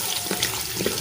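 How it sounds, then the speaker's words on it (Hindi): About two litres of water pour steadily from a tap or vessel into a cooking pot for 1.5 kg of soaked rice, a loud, continuous, close splashing rush with no talking. "तकरीबन 2 लीटर पानी डाल रहे हैं"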